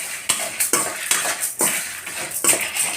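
Dry red chilies and toor dal for sambar premix are stirred in a pan, with a metal spoon scraping and clinking against it in a quick, uneven rhythm, close up and without talk.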